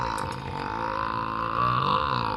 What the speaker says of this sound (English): This goes on for around another 10 seconds, making it a very impressive burp.